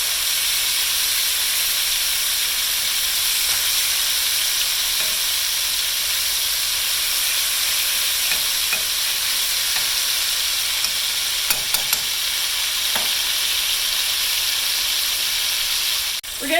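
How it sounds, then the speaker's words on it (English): Seasoned round steak browns in a pan with a loud, continuous sizzle and hiss that holds steady, broken by a few sharp clicks and scrapes near the end. "We're going to flip this over and let it continue to brown on both sides."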